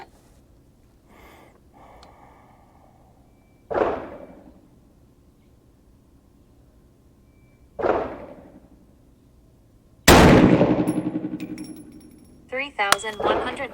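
A 350 Legend rifle fires three separate sharp, loud reports several seconds apart, each decaying quickly. The last shot rings longer and is followed by clattering, with quieter mechanical handling sounds between shots.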